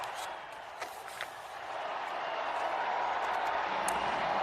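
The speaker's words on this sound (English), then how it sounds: "Crowds that gathered in St. Peter's Square erupting in cheers" A vast crowd in St. Peter's Square roars and cheers as a new pope is announced, a broad distant wash of voices that swells steadily louder and stays sustained.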